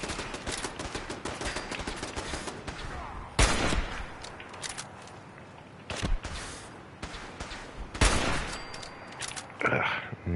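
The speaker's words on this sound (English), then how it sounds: "Someone's shooting at me still." Video game gunfire, a fairly dense stream of rapid shots with several louder, sharper bursts standing out at intervals, heard over continuous game noise.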